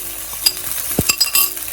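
Water and tomatoes go into a pan of frying, golden-browned onions for a chicken curry, giving a loud, steady sizzle broken by a few sharp clinks and scrapes of a utensil against the pan.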